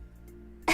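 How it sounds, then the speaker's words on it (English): A single short cough with a reverb tail bursts out at the very end after near silence, sharp and close. "And then one last cough."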